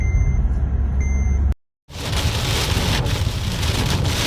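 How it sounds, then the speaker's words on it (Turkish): Steady, loud rush of heavy rain in a storm in Passau, Germany, briefly cut off before resuming, with a few electronic beeps early on. "Passau'da şiddetli yağmur fırtına var."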